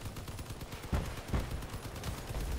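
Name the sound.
turret gunfire in the Crossout video game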